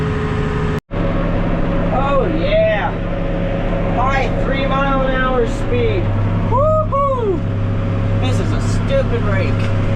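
A hay baler works through thick hay in a field, its engine a steady droning rumble close by, with squealing, whistle-like tones rising and falling over the top and talking at times.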